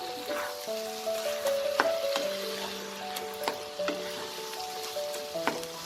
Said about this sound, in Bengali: করে এটাকে খুব ভালো করে মিশিয়ে দেব